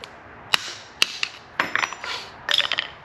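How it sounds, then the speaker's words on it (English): A hammer and pry bar work at a CV boot collar on a B5 S4, giving sharp metallic taps and clinks at irregular intervals, close up and with no talking. "I like the hammer and pry bar method."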